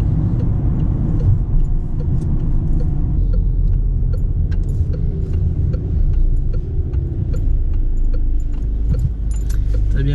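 A car on the road during a driving lesson gives a steady low engine and road rumble, with light jingling keys and small rattles from inside the cabin.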